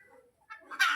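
A hen that has just laid her first egg gives a few short, soft clucks, quiet and close, followed by a brighter, louder cackle at the end.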